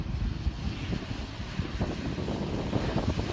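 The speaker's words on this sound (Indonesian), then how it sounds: "Pesawat CN-235 MPA merupakan jenis pesawat patroli maritim sayap tetap" A CN-235 MPA fixed-wing maritime patrol aircraft drones steadily with loud engine and propeller noise, a continuous broadband roar with slight wind buffeting and no speech.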